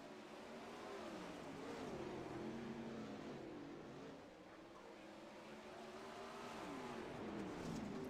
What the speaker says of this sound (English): '74 car making his way around the track